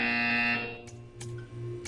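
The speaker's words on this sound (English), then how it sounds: "You will hear a buzzer." An in-game buzzer from the video game Portal 2, a loud, sustained electronic tone with strong harmonics that holds for about half a second and then fades out, leaving a low hum and a few brief clicks.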